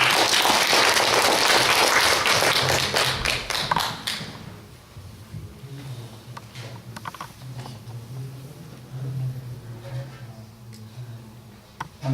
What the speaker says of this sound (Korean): 우리 차정 목사님 큰 박수로 환영하겠습니다.